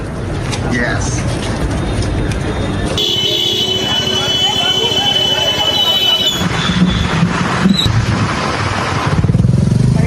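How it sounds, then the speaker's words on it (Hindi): A motorcycle ridden by a politician rumbles through street traffic, its engine steady and fairly loud beneath continuous talk, with horns and road noise around it. "उन्होंने बाइक उठा ली"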